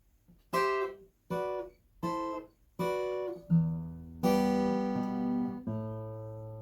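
Acoustic guitar chords ring out: four short repeated strums, then longer sustained chords with a low bass note, played close and alone.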